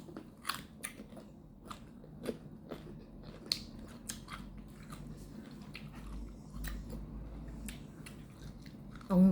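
Crunchy ripe mango bitten and chewed during a mukbang, with a string of sharp close crunches and wet chewing spread over several seconds against a quiet background.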